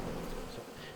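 Honeybees buzzing steadily around stacked beehive boxes, a dense continuous hum close by with no talk.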